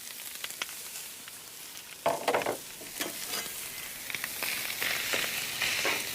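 Rice loosens in hot oil on a griddle over lowered heat, giving a soft continuous sizzle broken by scraping and stirring bursts from a spatula, close up and without voices.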